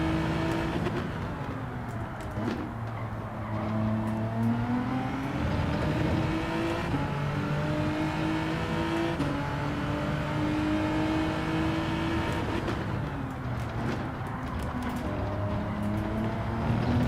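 A high-powered Group 3 racing car engine in Gran Turismo 7 drones and revs steadily, pitch rising through the gears, dropping on shifts and climbing again, loud and continuous with no talk.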